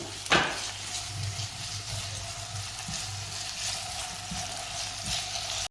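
Finely chopped potatoes fry in a pan for an Afghani omelette, giving a close, steady sizzle. A knock sounds at the start and soft utensil stirring bumps come and go. No one speaks.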